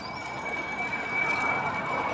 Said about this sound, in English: I don't think a car's supposed to sound like that.